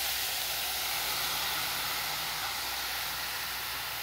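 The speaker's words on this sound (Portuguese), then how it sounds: "Agora é só deixar refogar um pouco" Rice, carrots, coriander and tomato sauce sautéing in a pan, giving a steady, even sizzling hiss that holds close and unchanged throughout.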